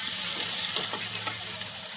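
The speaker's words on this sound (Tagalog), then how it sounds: "Ganito na lang po igigisa kasi sayang yung mantika." Onion sautéing in leftover oil from frying tilapia, a steady close sizzle with light stirring and scraping throughout, no talk.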